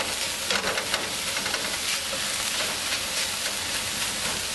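Mushrooms and chopped spinach sizzle steadily in a hot pan while being stirred, a close, continuous frying hiss with soft scraping, with no voices.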